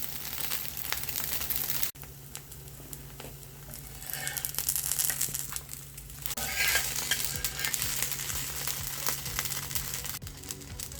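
Rava dosa batter made from semolina fries on a hot pan with a faint, continuous sizzle and some crackling, alongside occasional clinks and scraping sounds.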